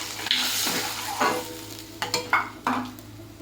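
Mustard paste stir-fried in a pan, sizzling steadily while a spatula scrapes through it in several distinct, close strokes.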